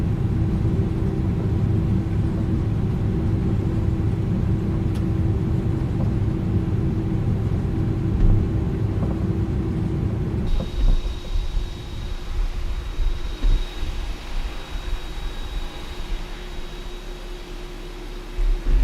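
Deep, steady engine rumble from an Airbus A300-600R in Microsoft Flight Simulator, loud and continuous throughout, with the texture shifting partway through as a thin, steady high tone joins the drone.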